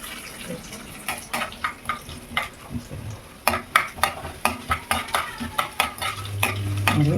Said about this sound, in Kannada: ನೋಡಿ ಎಣ್ಣೆ ಬಿಸಿಯಾಗಿದೆ. ಸಾಸಿವೆ, ಉದ್ದಿನಬೇಳೆ, ಕಡಲೆಬೇಳೆ, ಒಂದೇ ಒಂದು ಒಣಮೆಣಸಿನ್ಕಾಯಿ